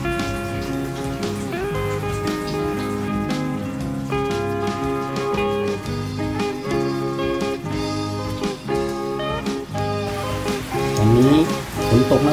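Rain falls outdoors during home cooking of a northern Thai grilled eggplant dish, a constant broad hiss of drops on surfaces blended with steady background music throughout.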